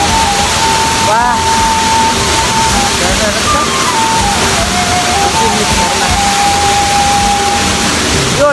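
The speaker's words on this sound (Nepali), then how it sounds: "पूर्वी रुकुमकोट जाँदै गर्दा बिच बाटोमा भेटिएको झरना हो यो चाहिँ" Loud, roaring waterfall beside a roadside path on the way to Purbi Rukumkot, a dense constant rush of falling water with a faint tone drifting over it.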